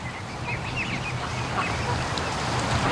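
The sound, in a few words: ducks and geese calling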